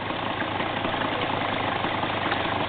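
A dirt bike engine runs close by on a trail with a continuous rough, throbbing drone at steady volume, with no distinct start-up burst.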